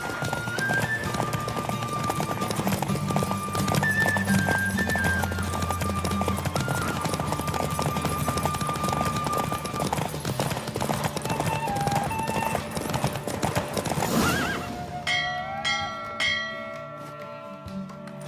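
A horse gallops in a race in The Witcher 3: Wild Hunt, with rhythmic hoofbeats under sustained game music that ends abruptly into a few fading tones.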